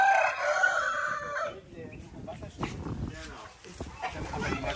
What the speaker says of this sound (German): Ein Hahn.